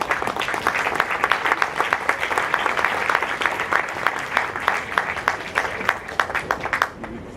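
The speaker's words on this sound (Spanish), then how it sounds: "Recibamos con un cálido aplauso" Sustained applause from an audience, many hands clapping steadily for several seconds before tapering off at the end.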